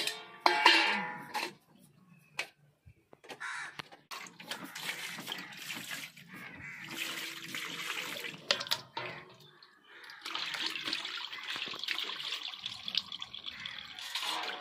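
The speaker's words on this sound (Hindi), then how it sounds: "मछली हम धो लेते हैं।" Fish being washed under running water in a kitchen, a soft, uneven splash and trickle with intermittent bursts of flow and handling noises, fairly quiet and close.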